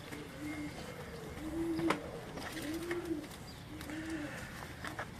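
Pigeons of the Lakhi breed coo on a rooftop in Islamabad, giving several soft, repeated low coos at close range over a light background hum.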